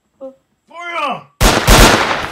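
After a voice shouts a command, a loud burst of gunfire sound effects erupts in a Lego war film, a dense crackling volley of shots that continues to the end.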